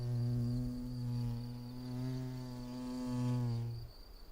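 Small wild bee, Osmia bicolor, buzzing close by while arranging a snail shell for its nest, a steady droning hum that wavers in loudness for about four seconds before cutting off.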